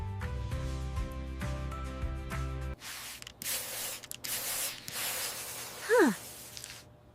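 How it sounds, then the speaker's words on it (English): After a stretch of music, bursts of hissing spray from an aerosol can, sprayed nearby in several short puffs. "The spray feels very cool."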